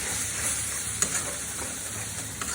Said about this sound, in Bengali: একটু সময় নিয়ে ভালো করে কষিয়ে দেবেন